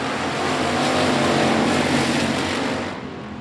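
Race cars roaring down the backstretch of the I-37 Speedway, a dense loud engine wash swelling as the pack passes and fading slightly at the end.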